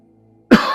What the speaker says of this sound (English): Talking has got me coughing this morning